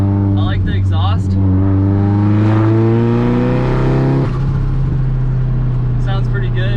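A Nissan 240SX with a straight-piped exhaust revs loudly up and back down, its raspy engine note climbing in pitch and then dropping, heard up close with brief chatter at the start and end.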